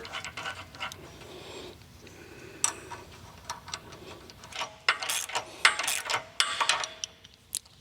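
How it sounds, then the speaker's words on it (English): Extended front sway bar link hardware being installed on a Jeep Wrangler JL with a 3.5-inch suspension lift, scattered metallic clicks, ratcheting and tool clinks, quiet and close, growing busier toward the end, no talking. "Now I'm installing the extended sway bar link in the front with the supplied hardware."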